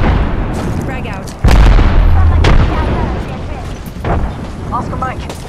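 A loud, deep boom of a frag grenade exploding in the game Apex Legends cuts in midway, rumbling briefly under game noise and voice chat with people talking.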